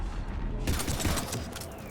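Heavy gunfire erupts in Mass Effect 3 Legendary Edition, a burst of rapid, crackling shots that starts abruptly after a brief quiet moment and continues at moderate volume.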